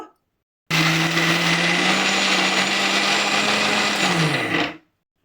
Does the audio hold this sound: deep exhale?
no